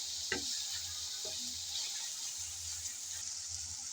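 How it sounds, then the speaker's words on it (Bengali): Spice paste (masala) frying in oil for a shrimp curry, a steady soft sizzle with a few brief stirring scrapes near the pan, no talking. "ভালো করে মশলাটা কষিয়ে নিলাম"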